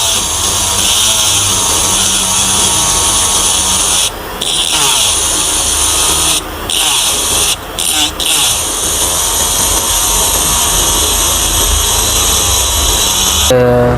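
A small rotary cutting tool grinds steadily through the steel shield on a phone circuit board with a loud, continuous high whine, broken by a few brief pauses before running on.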